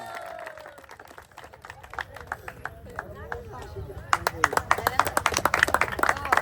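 An audience at an outdoor prize game claps for a winner, a crowd of sharp hand claps building into dense applause in the latter half, mixed with a speaking voice and crowd chatter.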